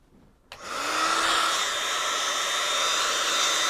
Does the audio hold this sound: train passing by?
no